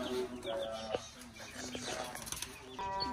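Chicks and pet finches at a home bird setup chirp and cheep in busy overlapping calls, with occasional clucks and wing flutters, fairly close and steady throughout.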